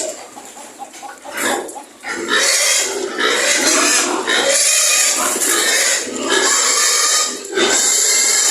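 Newly weaned native piglets on a farm squeal and grunt loudly in near, continuous bursts, with poultry clucking mixed in among the animal noise.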